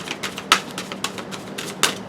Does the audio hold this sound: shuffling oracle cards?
yes